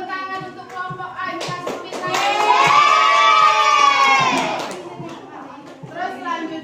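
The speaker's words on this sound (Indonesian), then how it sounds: "tepuk tangan untuk kelompok A." Junior high classroom students clapping and cheering loudly for a group, with children's shouts swelling into a sustained cheer over scattered claps before fading.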